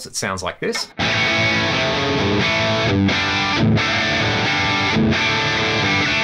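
A brief spoken line gives way to an electric guitar through an FM3 running a Cameron CCV2A amp model, a dirty modded Marshall-style tone. Thick, sustained distorted chords ring loud and close for several seconds, with short breaks between them.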